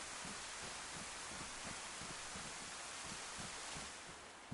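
Steady rain falling in the video game DayZ, a dense broadband hiss that holds evenly throughout and eases slightly near the end.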